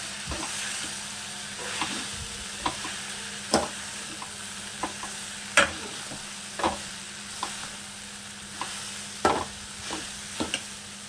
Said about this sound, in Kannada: ಆಮೇಲೆ ಇದನ್ನು ಈ ಬೆಂಡೆಕಾಯಿ ಜೊತೆ ನೀಟಾಗಿ ಮಿಕ್ಸ್ ಮಾಡಬೇಕು